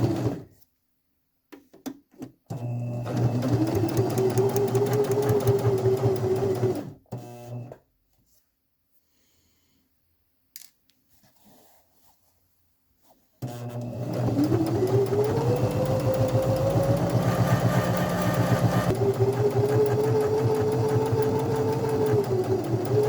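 Sewing machine back-tacking a locking stitch on a pillowcase: a close, steady motor whir runs for several seconds, stops into near silence, then starts again for a longer stretch with its pitch rising and shifting.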